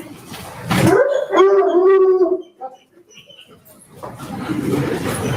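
Female K-9 tracking dog howling close by, one long rising and sustained howl that breaks into whimpers and fades, followed by background noise.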